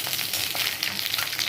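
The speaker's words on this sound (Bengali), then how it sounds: "এবার বেগুনগুলো ভালো করে নাড়াচাড়া করব।" Eggplant pieces fry in a pan with turmeric, chili powder and salt, producing a loud, dense sizzle with faint stirring touches and no voices.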